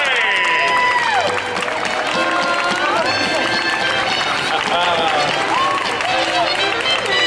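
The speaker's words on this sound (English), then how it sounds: "please put your hands together and cheer for the fairest one of all, Snow White." Live audience at a Snow White storytime applauding and cheering for Snow White, sustained loud clapping and whoops filling the room, with voices calling out over it.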